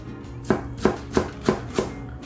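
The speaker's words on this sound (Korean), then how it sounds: "양파는 얇게 썰어서" A knife chops through onion on a cutting board in five evenly spaced, crisp knocks, close and clear against a quiet room with no talking.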